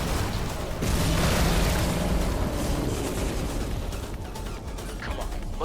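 Explosive barrels detonating in the Stellar Blade action game, a loud broadband boom with crashing debris near the start that decays into a dense rumbling wash of combat noise.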